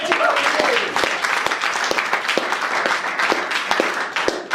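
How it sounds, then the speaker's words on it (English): Applause from a small comedy club audience, scattered clapping with sharp individual claps standing out above a mild crowd murmur, and a voice audible within it. "A round of applause for 29 years!"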